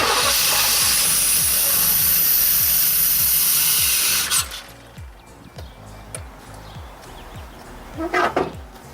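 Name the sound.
1989 Formula car engine starting after three years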